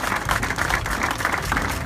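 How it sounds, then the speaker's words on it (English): Broad, continuous applause from a gathered crowd at the opening ceremony of the New Bedford Portuguese Feast, a steady rushing texture of many clapping hands with no clear individual claps. "clap at that."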